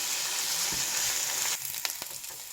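Ivy gourd (kovakkai) sautéing in a pan until golden gives a steady, close sizzle with a few soft stirring scrapes near the end.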